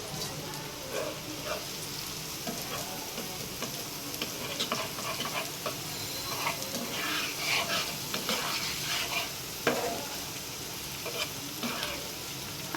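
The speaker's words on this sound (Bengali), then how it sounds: "এভাবেই আর কিছুক্ষণ মানে পেঁয়াজটা ভাজা ভাজা করে নেব।" Onions frying in a pan with spices for a Bengali kachki fish and potol dish, a steady close sizzle with frequent scraping stir strokes, no talking.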